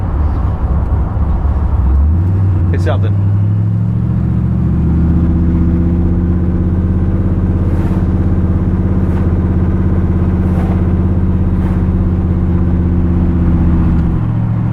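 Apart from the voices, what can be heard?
1957 Chevy Bel Air driving on rough roads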